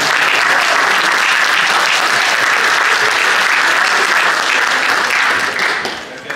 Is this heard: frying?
no